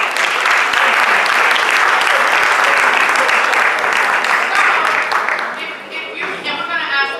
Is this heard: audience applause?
yes